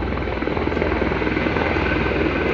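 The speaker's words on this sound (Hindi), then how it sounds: "और यहाँ पर एक और हेलीकॉप्टर आ चुका है।" A helicopter over Katra in Jammu gives a steady, loud rotor-and-engine drone that fills the whole short stretch on its own, with no voices.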